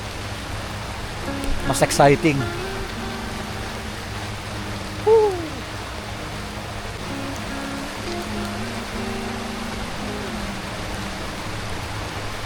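Steady rain falls at Camp Silva hot spring on Mt. Kalisungan, a constant close hiss of drops on surfaces throughout, with a voice briefly talking early on and a short exclamation midway.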